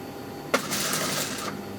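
A sewing machine stitches piping onto a hem in one short burst of about a second, a close whirring run that starts with a sharp click and stops abruptly.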